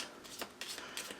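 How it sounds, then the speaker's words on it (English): A round Natural Ink Tarot deck being shuffled by hand: a few quick papery riffling bursts, close and moderately loud, with brief soft pauses between them and no voices. "I'm not used to shuffling a round deck"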